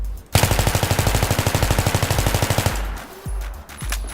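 An M16A3 rifle in a video game fires one sustained full-automatic burst of about two seconds, rapid evenly spaced loud shots, followed by brief clatter and quieter tail sounds.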